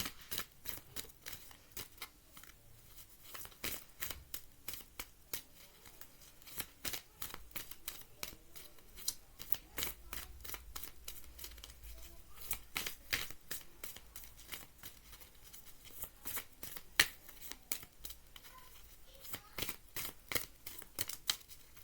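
Tarot cards being shuffled continuously, a soft, steady stream of papery flicks and riffles at a quiet, close level, with no talking.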